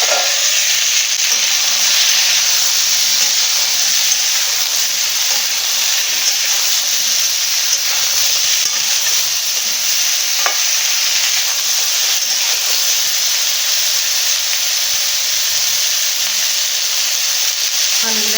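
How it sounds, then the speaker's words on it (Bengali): Fish frying in oil in a covered pan for a white fish curry, giving a steady, loud broadband sizzle that runs unbroken throughout with faint stirring clicks. "তেলটা একটু তুলে রেখে দিয়েছি চাপা দিয়ে দিয়ে ভালো করে ভেজে নেব"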